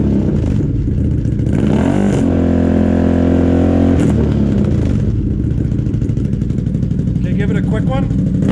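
A 2019 Can-Am Outlander 650 XMR fitted with a Yoshimura slip-on exhaust is revved once sharply from idle, a loud climbing roar that holds then drops back to a rough idle, with a voice briefly heard near the end.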